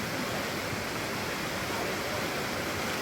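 Flood water rushes past buildings in Kullu, Himachal Pradesh, a loud, steady broadband roar of churning water that continues without a break.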